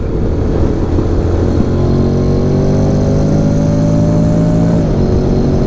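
A 2023 Honda X-ADV 750 scooter in sport mode pulls hard under steady acceleration, its engine note climbing in pitch and dropping at a gear change, loud and close with wind rush.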